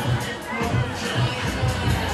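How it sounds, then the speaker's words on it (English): Lively crowd lining a narrow street at the Krewe of Bacchus Mardi Gras parade, a dense hubbub of chatter and voices with faint cheering, close and loud throughout. "Very lively crowd."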